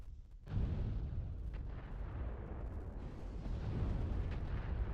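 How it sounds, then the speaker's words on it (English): An artillery strike lands in MechWarrior Online, a sudden deep rumbling blast that rolls into a sustained, distant-sounding roar of impacts, fairly faint overall and swelling slightly toward the end. "Another artillery, a bit more team damage"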